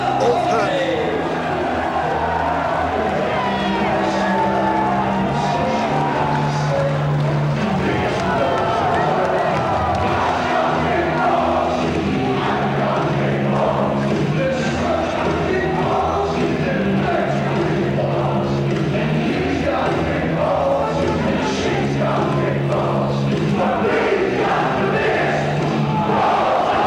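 A packed wrestling crowd at a Frontier Wrestling Alliance show in Bethnal Green, London, sings along and cheers as one, a dense, steady roar of massed voices that holds for the whole stretch.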